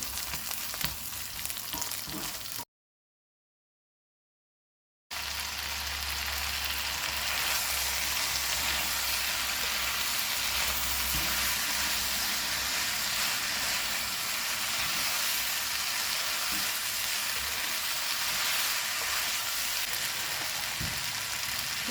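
Meatballs for a spaghetti stir-fry fry in a pan with a loud, steady, dense sizzle that runs nearly the whole time, with one gap of total silence near the start and no voices.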